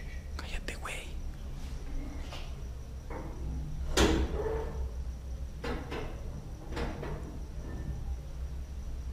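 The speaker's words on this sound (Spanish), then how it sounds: "se abrió la puerta, pero es el puto aire" A door in an abandoned house swings open once with a short knock about midway, amid hushed whispering voices and faint rustling.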